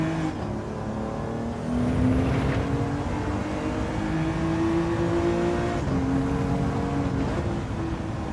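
Race car engine in a racing video game during a practice lap before qualifying, a steady continuous drone with rising and falling pitch as it accelerates and shifts, constant loudness throughout with no talk.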